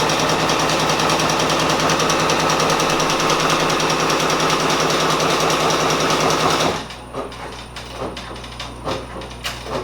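A Brother Persona embroidery machine stitching a satin stitch border buzzes loud and steady at close range for several seconds, then stops, leaving a quieter stretch of scattered clicks and handling noises.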